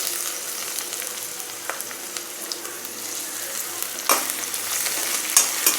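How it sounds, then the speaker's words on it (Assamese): Ginger-garlic paste frying with onions in a pan for an Assamese lentil dish, a constant soft sizzle with a few louder stirring scrapes and clinks near the end, close and without speech. "আদা নহৰু পেষ্টখিনি অলপ সময় ভাজি ল'ম"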